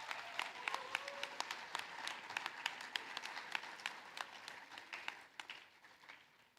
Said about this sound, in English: Clap your country, clap your own opportunity.